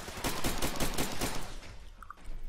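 Automatic rifle fire in Far Cry 2 rips out as a fast burst of rapid shots for just over a second, loud and close, then cuts off leaving quieter background noise.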